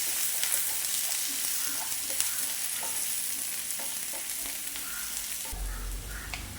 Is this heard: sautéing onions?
yes